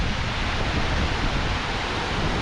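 Jogini Falls in Manali thunders as a dense, even wash of falling water, with wind-blown spray and gusts buffeting the microphone close up, and no one speaking.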